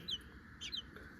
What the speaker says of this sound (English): And do think he is a cockerel.